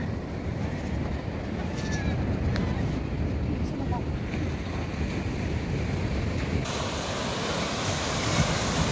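Ocean waves surge and break on a shore along the Lingayen and La Union coast, a steady broadband roar buffeted by wind noise on the microphone, growing brighter and louder toward the end.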